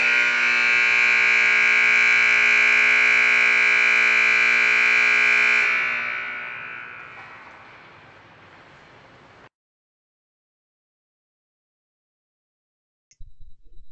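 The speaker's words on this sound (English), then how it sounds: "The horn will automatically sound when the main clock reaches zero." The Hopkins Pavilion scoreboard horn goes off automatically as the main clock hits zero, a loud, harsh, steady electric blare held for several seconds before it fades away and cuts to silence.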